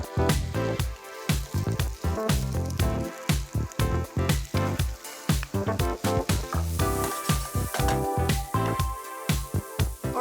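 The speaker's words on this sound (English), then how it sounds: "we need to just wait for these potatoes to cook" Potatoes frying in a pan, with onion to be added later; a loud, continuous sizzle and crackle with frequent sharp pops and spits, close up, with no talking.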